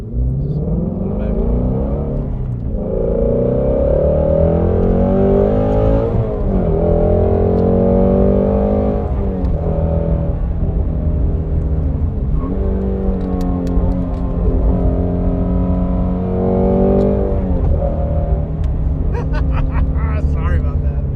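A 2018-2021 Ford Mustang GT with the 10R80 transmission accelerates hard on a track, its engine climbing in pitch through several rising gear sweeps with brief drops at each shift, loud inside the car while people talk.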